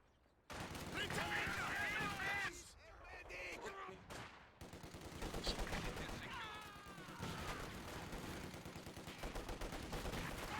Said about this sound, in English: heavy fire of the Jäger Command Squad